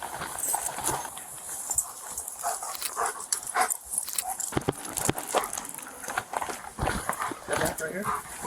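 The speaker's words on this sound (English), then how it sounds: "You're about to be searched by a police dog." A police K9 searches during a body-cam arrest at a restaurant hit by an arsonist, with close footsteps, scuffling and dog movement, and speech in the background throughout.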